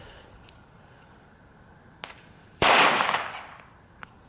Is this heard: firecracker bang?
yes